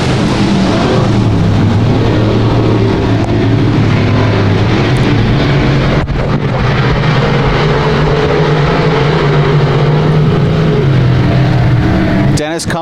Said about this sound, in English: Dennis Cummings going to lead lap number 1